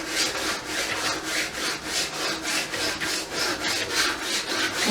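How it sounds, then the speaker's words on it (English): Rhythmic back-and-forth strokes of sandpaper on canvas, about two per second, a steady raspy hiss close to the microphone. "It really uses a lot of sanding paper."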